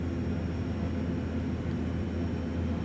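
A King Air 350i turboprop spools up during engine start in a flight simulator, a steady, dense whine and roar holding at constant loudness throughout, with no voices.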